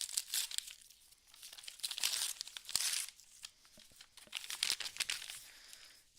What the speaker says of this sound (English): I'm going to grab one of my coffee bags that I love using as a palette.